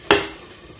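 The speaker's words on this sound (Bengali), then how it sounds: "চাল ভাজা হয়ে গেলে না কেমন একটা ঘন ঘন একটা আওয়াজ আসে।" Rice frying in a pot for beef biryani, a sharp sizzling burst as the grains are stirred, then a quieter, steady crackle that fades slightly and continues alone without any talk.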